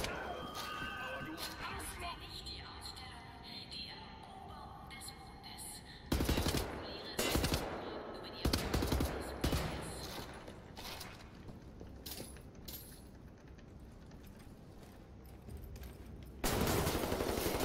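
Gunfire in Wolfenstein: The New Order, bursts of shots and volleys cracking out in clusters around several moments amid a steady game soundscape, with someone talking over parts of it.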